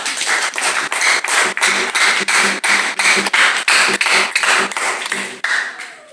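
A church congregation claps hands in praise: a crisp, steady rhythm of loud, close claps, about two per second, continuing throughout and stopping near the end.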